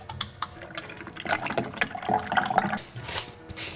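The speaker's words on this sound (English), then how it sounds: "we're gonna start by filling up this guy, which is the cup that the ice cream maker comes with. This is the milk I'm gonna be using." Milk pours into the plastic cup of an ice cream maker, a short, close splashing and gurgling that rises as the cup fills.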